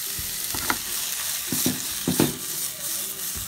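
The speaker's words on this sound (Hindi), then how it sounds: "इसीलिए थोड़ा पैन पे सौते कर लेंगे" Onion and capsicum pizza toppings sautéed in a pan of warm oil, a close, steady frying hiss with a few scraping stirs and soft knocks, no voices.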